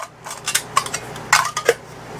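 Light metallic clinks and taps, several scattered knocks of a metal canteen cup against a small water-boiling stove, close by with no talk.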